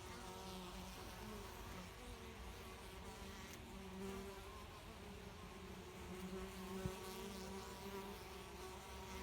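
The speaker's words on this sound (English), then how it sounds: "I'll just show you these bees though." Honey bees that have been foraging on balsam drone steadily around their hive, a dense continuous buzz of many wings with no voices, holding an even level throughout.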